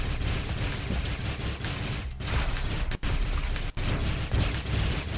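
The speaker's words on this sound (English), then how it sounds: "This assault rifle doesn't hit anything." Rapid assault rifle fire from the Sanctum video game, a dense, continuous, loud burst with brief gaps where the shooting stops for a moment, and no voices over it.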